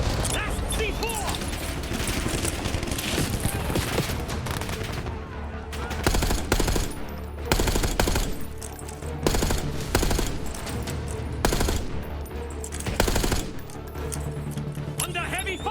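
Heavy automatic gunfire in the shooter Call of Duty: Black Ops 6, loud sustained bursts with sharp individual shots punching through, continuous chaotic battle noise with shouted voices mixed in.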